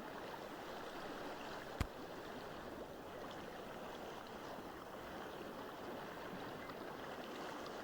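Continuous broadband water wash and splashing from swimming in the video game Lakehopper, a cargo pilot sim, steady and fairly quiet throughout with one sharp click early on; no talking.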